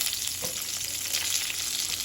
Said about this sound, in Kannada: ಒಗ್ಗರಣೆ ಸಿಡಿತಿದ್ದ ಹಾಗೆ ಹೆಚ್ಚಿಟ್ಕೊಂಡಿರುವಂತಹ ನುಗ್ಗೆಕಾಯಿಗಳ ಹೋಳುಗಳನ್ನು ಇದಕ್ಕೆ ಹಾಕ್ಕೊಳ್ತೇನೆ